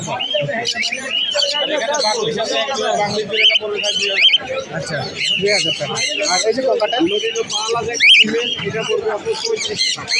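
Many birds, including lovebirds, chirp and squawk densely all around at a bird market in Mirpur, Dhaka, a busy chorus of calls mixed with people talking nearby.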